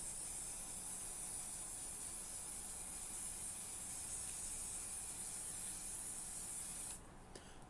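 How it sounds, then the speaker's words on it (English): Hairspray is doused onto hair during a face-painting session, making one long, close, continuous aerosol hiss that stops after about seven seconds. "I'm gonna go ahead and douse in some hairspray."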